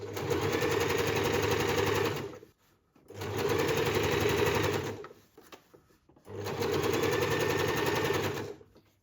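A sewing machine stitches shirred fabric in three steady bursts of rapid, close mechanical whirring, each lasting about two seconds, separated by short pauses, with no voices.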